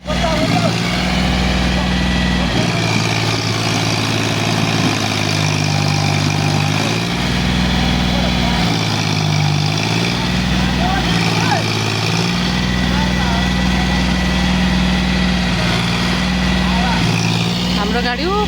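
A tractor engine idles loudly and steadily on a rough village road, its low throbbing rumble swelling and dipping, while people talk over it throughout.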